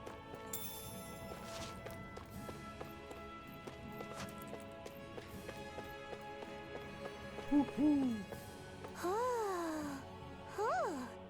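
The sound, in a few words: owl hooting in the video game Diablo IV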